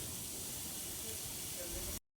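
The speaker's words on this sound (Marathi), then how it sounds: "थोडंसं कढईमध्ये तेल घालते कांदा भाजून घेण्यासाठी त्यामध्ये कांदा घालायचा आहे" Onion fries in hot oil in a kadhai, making a dense, steady hiss and crackle at a moderate level with a faint voice beneath it, before cutting off abruptly into silence.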